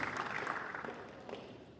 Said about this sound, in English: Please let's give him another big round of applause.